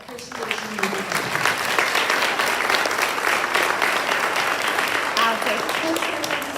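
Audience applause at a high school senior awards ceremony, sustained hall-filling clapping from a crowd, steady and loud for several seconds, with a speaker's voice faintly over the start.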